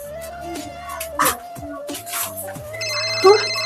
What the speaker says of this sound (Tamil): யார் அது போன் பண்றது?